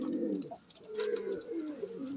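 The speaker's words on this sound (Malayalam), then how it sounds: "അടുത്ത് വിടാനുള്ള പ്രാവ്. നമുക്ക് പതുക്കെ വിടാം." A young pigeon being trained coos softly and close by, a few low throaty rolling calls in quick succession with brief pauses between them.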